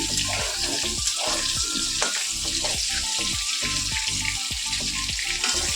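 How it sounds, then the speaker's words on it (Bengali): A cauliflower curry fries in a pan on a home stove, giving a steady, close sizzle with crackles and spits repeating throughout, heard alone without talking. "ফুলকপি তরকিটা বসিয়ে নিই"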